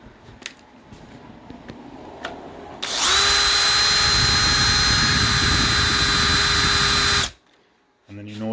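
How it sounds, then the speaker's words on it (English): Power drill boring holes through a clamped cyclekart spindle clamp in a workshop: a few soft clicks, then a loud sustained high-pitched whine for about four seconds that stops abruptly. "just clamp it right up, drill it right there, just like this"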